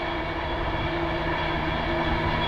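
A train rumbles past on a railway line running beside a canal at Great Haywood, a loud, continuous mechanical roar with steady wheel and engine noise across the whole stretch.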